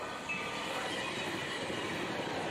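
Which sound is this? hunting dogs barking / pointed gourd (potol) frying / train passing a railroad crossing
train passing a railroad crossing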